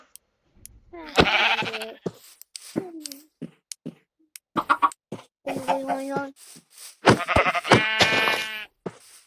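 Sheep in the Minecraft video game bleat in a string of short, wavering calls spaced through the scene, alternating with quieter gaps.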